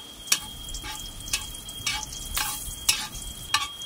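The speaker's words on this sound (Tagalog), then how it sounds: "lagyan natin muna yung igigisa natin itong bawang" Garlic sautés in a pan to start ginataang cassava leaves, with a steady sizzle under a series of about seven sharp, rhythmic stirring scrapes close by.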